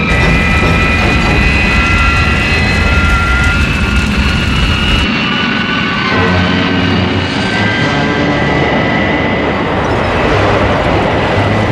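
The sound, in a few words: jet aircraft engines roaring in a dive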